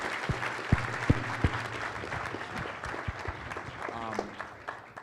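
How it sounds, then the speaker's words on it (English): A conference audience at the 14th Annual Afrikan Black Coalition gathering breaks into a sustained round of applause, a broad roar of many hands with a few louder nearby claps and thumps early on. "Can you all please give yourselves a big round of applause?"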